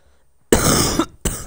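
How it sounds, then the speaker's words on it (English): A sick gamer coughs twice, close to the mic: one harsh, raspy burst about half a second long, then a brief gap and a second sharp cough. "Sorry if I'm coughing a lot"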